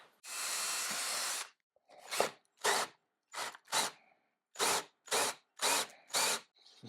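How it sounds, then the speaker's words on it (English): A smaller drill bit is being driven through a wooden board while a woodworking sharpening system is built. One long whirring burst comes first, then a series of short, evenly spaced drill bursts with silent gaps between them. The drilling is close and loud. "I'll come in with a smaller drill to begin with and just drill through"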